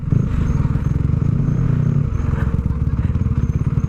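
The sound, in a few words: motorcycle passing on road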